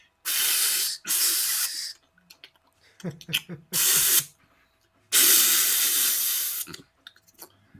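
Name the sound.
vocal imitation of spray paint can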